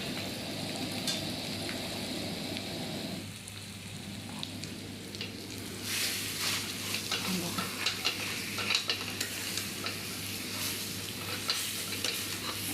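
Gram flour (besan) mixture being stirred and fried in a pan with chillies, steady scraping and stirring over a continuous close sizzle, growing busier and louder partway through.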